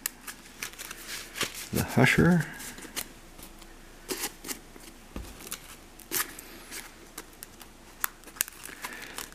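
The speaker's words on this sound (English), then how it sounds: "Shuffle away" A deck of Magic: The Gathering cards being shuffled up close, a burst of riffling and clicking early on, followed by sparse handling taps and rustles, with a voice speaking briefly.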